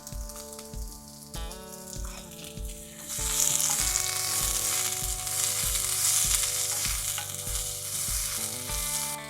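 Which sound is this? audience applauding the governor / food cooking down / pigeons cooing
food cooking down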